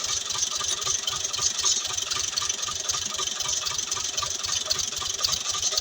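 A tractor engine runs steadily at idle with a rapid, even chugging pulse and a faint rattle throughout, close and moderately loud, with no talk.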